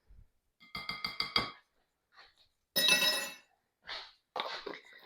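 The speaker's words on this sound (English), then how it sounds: "But first we got to mix the filling." Cinnamon babka filling being mixed in a bowl: a quick run of clinking spoon-on-bowl taps, then scattered scraping and clattering strokes with pauses, close and fairly loud, no talking.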